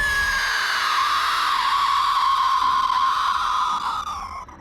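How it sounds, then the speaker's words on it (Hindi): A loud, sustained scream rings out alone in a horror story, holding steady for several seconds before trailing off at the end. "एक ज़ोर की चीख उसे सुनाई दी"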